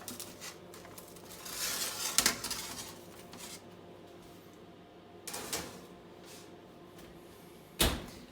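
Meringues on a baking sheet go back into a switched-off oven, with a metallic clank of the tray and oven door, a softer clatter a few seconds later, then a sharp closing thud.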